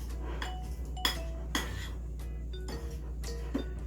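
Cream cheese and confectioners sugar mashed together in a bowl, sounding as a series of soft utensil scrapes and clinks against the bowl, spaced irregularly over a steady low hum, with no talking.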